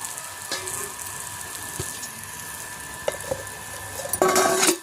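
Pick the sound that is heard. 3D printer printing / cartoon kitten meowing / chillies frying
chillies frying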